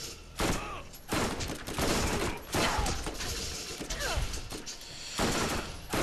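Rapid bursts of gunfire from the video game Borderlands crackle and crash in close, dense volleys separated by brief pauses, with mechanical clanks mixed in.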